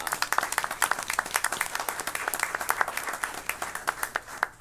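Audience applause at a board of education meeting: a dense, steady round of many hands clapping together, moderately loud and sustained throughout, with no talk over it.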